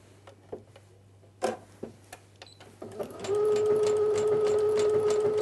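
A Brother sewing machine fitted with a walking foot starts with a few scattered clicks and taps, then settles into a steady, loud mechanical stitching hum with a sustained motor whine.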